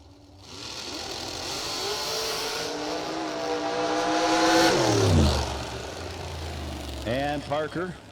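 A drag race car at a foot brake bracket event roars down the strip, its engine rising loudly then dropping in pitch as it passes and fades, with a crowd-level commentator voice over the noise.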